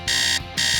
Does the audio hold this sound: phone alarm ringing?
yes